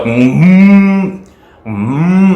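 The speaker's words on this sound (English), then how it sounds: "when it has this animalistic sound, sounds like an elephant or something" A loud, distorted guitar effect bends and growls like an elephant's trumpeting call, two long bellowing phrases separated by a brief pause.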